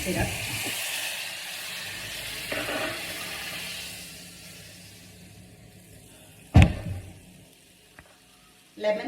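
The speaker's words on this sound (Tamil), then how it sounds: "இப்போ இதில் இந்த சிரப்பை வந்து இப்படி ஊற்றிடுங்க." Syrup hits sautéed ginger in a hot pan, with a loud sizzle at first that gradually dies away, then a sharp clatter and a later short burst of sound.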